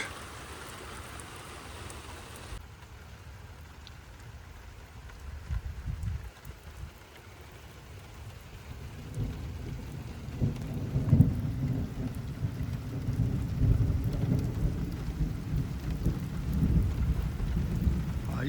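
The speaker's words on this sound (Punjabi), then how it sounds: "ਬਾਰਿਸ਼ ਦਾ ਦੇਖੋ ਬਾਰਿਸ਼ ਬਾਰਿਸ਼ ਬਾਰਿਸ਼" Heavy rain pounds down during a drive from West Lafayette toward Chicago, a constant wash of rain joined by deep rolling thunder that builds and rumbles louder through the second half, with no talking.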